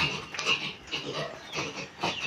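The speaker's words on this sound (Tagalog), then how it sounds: "Nangangain ng ice candy ang mga biik." Piglets jostling over ice candy, squealing and grunting in repeated bursts close by, with snorting and scuffling between the calls.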